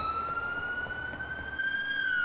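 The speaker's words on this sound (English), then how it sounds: "I'm testing the ambulance sirens out again" A London ambulance siren in the video game GTA wails in a steady, piercing tone that slowly climbs in pitch, loud and close, with no talking over it.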